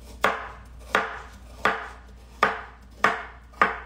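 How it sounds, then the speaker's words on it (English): A knife chops carrots on a cutting board during raw vegan lunch prep, six sharp, evenly spaced cuts close up with brief pauses between strokes and no talking. "Especially with carrots, you don't want to have huge pieces, but you want to have big enough pieces so you're not chopping finely"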